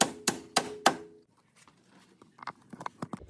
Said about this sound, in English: Then hammer out the bolts until the nuts bottom out.